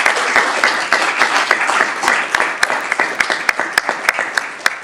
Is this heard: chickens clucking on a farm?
no